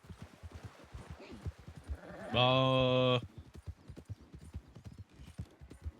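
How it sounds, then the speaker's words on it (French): Horse hooves clip-clop steadily in a western video game, an even walking rhythm running under rapid nearby talk throughout, broken midway by a loud sustained bleat-like animal call. "Il y a des chevaux aussi à gauche, faut faire gaffe."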